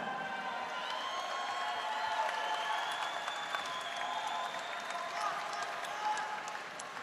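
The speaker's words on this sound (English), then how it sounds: "Let's have a round of applause for both fighters." Arena crowd applauding and cheering both fighters after an MMA bout, a wide, distant wash of clapping and crowd noise with sustained tones running through it.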